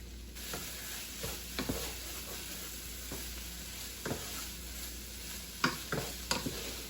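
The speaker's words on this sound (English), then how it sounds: "I just want to make sure that the Hamburg is all cooked through." Ground beef frying in a pan, a soft steady sizzle with occasional scraping stirs and clicks of a utensil against the pan, close and fairly quiet.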